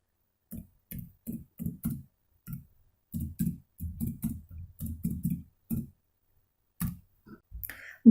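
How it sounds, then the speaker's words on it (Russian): Typing on a computer keyboard in a quiet room, clusters of crisp close key clicks coming in uneven bursts with short pauses, alone and with no talking. "Буквы, цифры и знаки препинания мы вводим с клавиатуры."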